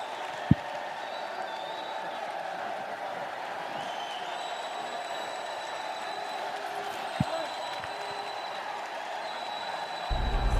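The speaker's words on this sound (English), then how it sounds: "Ladies and gentlemen, a round of applause for both men." A crowd applauding two boxers after a fight, a faint, steady wash of distant clapping through the whole stretch, with a couple of sharp knocks and louder noise rising at the very end.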